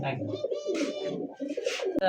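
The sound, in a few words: American fancy pigeons cooing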